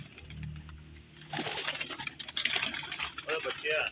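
Indian pigeons, a pair among others kept on a rooftop loft, coo in soft low bursts in the first second, then a louder mix of movement and voices takes over, with further brief bird calls near the end.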